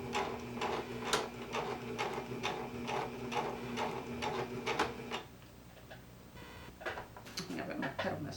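A pedal-operated sewing machine stitches a sleeve in a knit fabric, running in quick rhythmic bursts that stop and restart a few times with brief pauses between.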